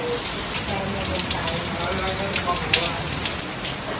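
Rain falls steadily, a dense even hiss of drops on surfaces, close and constant throughout with one sharper tap partway through.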